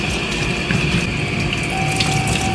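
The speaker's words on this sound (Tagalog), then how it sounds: "Tsaka mo pupunduhan ng tubig." Water pours steadily into a basin, a continuous close rushing and splashing with a faint tonal hum underneath, unbroken for the whole stretch and with no voices.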